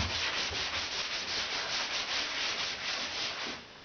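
Steady close rubbing strokes as chalk writing is wiped off a workshop blackboard, a continuous swishing scrub with a gentle rhythmic pulse that fades at the end, no talk.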